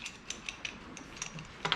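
A wing nut is spun off the back plate of an AMS water retriever, making a quick run of small, close metallic clicks and light rattles, ending in a brief cluster of louder ticks.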